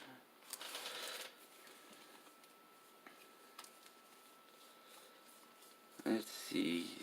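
Playing cards shuffle and slide as they are moved and laid out, soft papery rustles in bursts at the start and near the end, quiet and close, with a brief voice toward the end.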